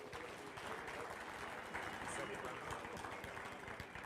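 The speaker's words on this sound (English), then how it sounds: "give them one more round of applause" Audience at a Pennsylvania auctioneer competition championship claps for the top three contestants, a faint, dense round of applause that holds steady throughout.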